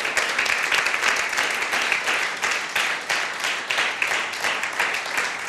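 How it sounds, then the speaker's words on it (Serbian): A TV studio audience breaks into sustained applause, a thick, even wash of many hands clapping at close range, with no talking on top. "Najveći aplauz za gledalce."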